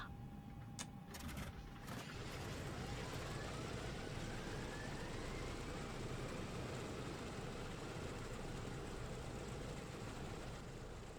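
DC-6B piston engine running in Microsoft Flight Simulator 2020, a steady loud broadband drone that fills the whole stretch, following a few brief clicks near the start.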